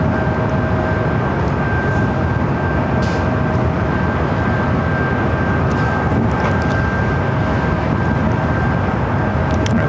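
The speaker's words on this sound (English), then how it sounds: "It's looking like a Dreamliner arrival." Boeing 787 Dreamliner airliner arriving at LAX, a loud steady broadband roar with a faint engine whine held throughout, with no talking.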